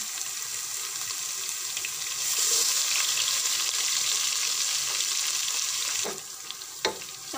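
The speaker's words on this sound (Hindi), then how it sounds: "प्याज गोल्डन ब्राउन हो गए अब मैं इसमें लहसुन डाल दूंगी" Loud continuous sizzling of frying in hot oil, swelling as garlic is added to golden-brown onions, then settling, with a couple of sharp clinks near the end.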